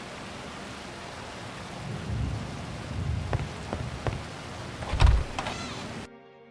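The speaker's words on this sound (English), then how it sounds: "That storm's getting pretty fierce." Thunderstorm with rain on a remote island, a steady wash of rainfall with low rumbling thunder swelling around the middle and a sharper crack near the end, heard alone without voices.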